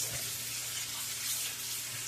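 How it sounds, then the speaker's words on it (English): Water runs steadily from a tap into a pot of potatoes, a close, continuous hiss and splash that lasts a couple of seconds with no talk. "We're going to add some water to this."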